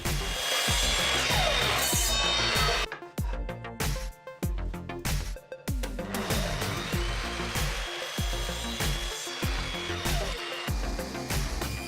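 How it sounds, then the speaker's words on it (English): A power saw cuts wooden side pieces for a spice rack to length against a stop block, loud continuous whining with brief dips between passes as the blade runs through the wood. "I am now going to see if I can cut the 2 sides to the right length."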